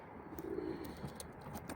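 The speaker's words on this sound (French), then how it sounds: "un pigeon bisé noir avec quelques petites taches blanches" A black checkered pigeon with a few small white spots coos softly nearby in a brief, faint call against a quiet background.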